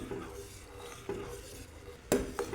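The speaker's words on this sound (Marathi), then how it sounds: "साखर विरघळेपर्यंत थोडंसं हलवत राहायचंय दूध।" Spoon stirring milk and sugar in a metal pot while cooking pumpkin kheer: soft scraping swirls with a few sharp clinks of utensil against the pot, close and moderately quiet, no talk.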